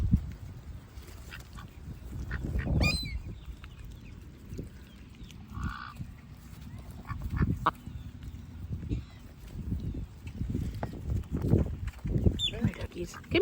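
Ducks gathering to be fed bread at the water's edge give scattered quacks and honks, some close and some farther off, mixed with a person talking and calling to them across the whole stretch.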